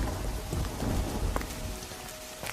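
Heavy rain pours steadily outdoors near a shipping container, with low rumbles of thunder rolling beneath the dense hiss of falling water; no voices.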